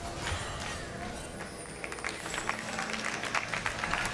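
Distant applause patters steadily from a crowd at a League of Legends esports match, with people talking over it throughout.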